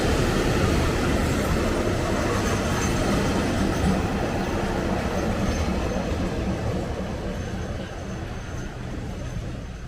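Diesel commuter train at Ayutthaya station in Thailand, a steady loud rumble of engine and rolling wagons that holds for the whole stretch and eases slightly toward the end, with faint background voices.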